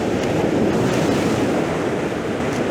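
Ocean waves washing over coastal rocks, a steady loud roar of surf that fills the whole stretch without a break, with some wind buffeting mixed in.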